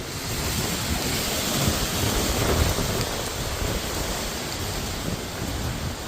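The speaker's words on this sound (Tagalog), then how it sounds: "lakas ng hangin niya" Strong wind during a California wildfire roaring steadily across the microphone, a dense broadband rush with gusty swells and no voices.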